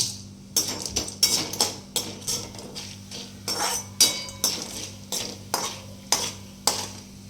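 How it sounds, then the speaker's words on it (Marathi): Whole star anise pods fry in hot oil while being stirred, with a run of sharp metallic scrapes and clinks of a spoon against the pan at a steady rhythm, close and fairly loud over a quiet low hum. "याच्यामध्ये तळून घेऊ हे चक्री फूल."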